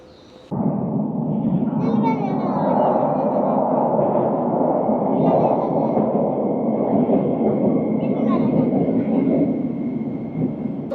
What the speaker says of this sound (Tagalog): Nakasakay na kami ng train